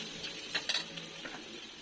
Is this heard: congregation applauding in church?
no